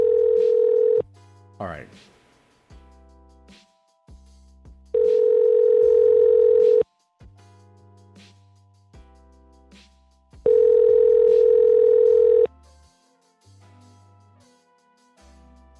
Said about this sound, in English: Ringing. Come on, someone answer.